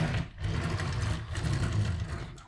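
Plastic wheels of a Transformers Legacy Evolution Armada Optimus Prime toy roll across a table, making a low, steady rumbling whir that lasts a couple of seconds, close and fairly quiet.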